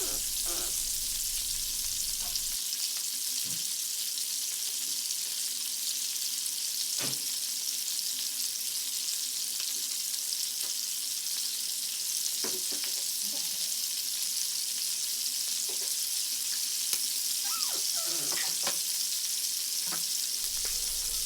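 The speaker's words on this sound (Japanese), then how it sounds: "肉の分厚い部分の側面を焼いていきます。" Thick sides of duck breast searing in a frying pan, a steady close sizzle of fat and oil running throughout, broken by occasional soft knocks and taps of the pan.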